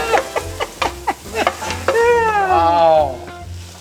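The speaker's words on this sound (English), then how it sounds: "is cooking his sausage in a separate skillet" Louisiana hot link sausage sizzles and crackles in a skillet, with stirring and scraping up close. A short tonal squeal rises over the frying near the end.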